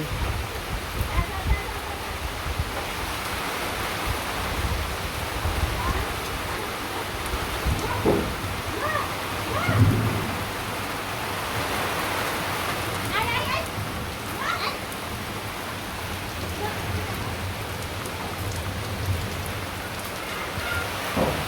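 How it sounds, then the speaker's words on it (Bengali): Steady rain falling outdoors on a rainy day, a dense even hiss of drops on surfaces throughout, with faint background voices and a few soft knocks. "কেমন বৃষ্টি নামছে বুঝছেন"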